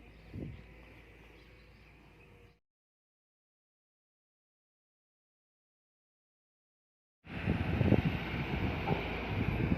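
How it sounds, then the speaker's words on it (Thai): Strong hot wind roars and buffets the microphone in a steady, broad rush, cutting to silence for several seconds before returning louder and gustier. "ลมร้อนนะครับ มาจากฝั่งทางทางนี้นะครับ ลมแรงมากครับ ลมแรงมาก"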